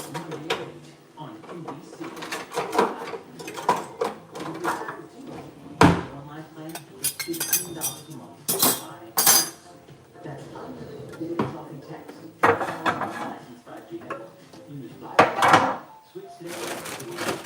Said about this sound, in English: I'm gonna have to put some of these dishes in.